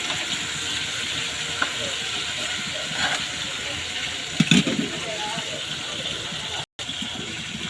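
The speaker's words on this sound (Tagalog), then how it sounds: "Haluin natin ang manok para maprito sandali, matoasted bago natin magkataan" Chicken frying in a pan for Filipino ginataang manok, a steady loud sizzle and hiss with occasional clinks and scrapes of stirring, while someone talks over it.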